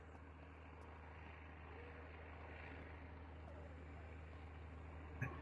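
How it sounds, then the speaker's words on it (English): An airplane drop in the video game SurrounDead passes overhead as a faint, steady engine drone throughout, with a small click near the end and no voices. "Oh, that's an airplane drop."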